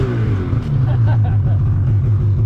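Polaris RMK fuel-injected snowmobile engine held at wide-open throttle, a loud, close, steady low roar with a deep droning tone throughout the short stretch.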